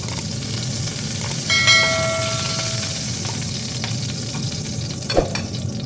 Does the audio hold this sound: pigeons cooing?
no